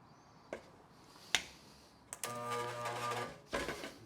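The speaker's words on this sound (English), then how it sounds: "Let's go ahead and spot weld this together." A spot welder joins a sheet metal lap joint: sharp clicks from the tongs, then a buzzing electrical hum lasting over a second, followed by a final clack, close and with no talk.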